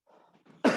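A single short, sharp cough bursts out after a moment of faint breathy sound, brief and moderately close.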